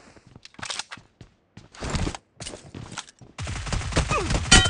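UMP 45 submachine gun fire in a video game 1v1, coming in short bursts that build into sustained, close automatic fire with brief pauses between volleys.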